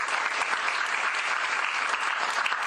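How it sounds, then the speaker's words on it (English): Audience at a press conference applauding, a dense, even, close round of clapping that holds steady throughout with no talk over it. "So can we give them a round of applause?"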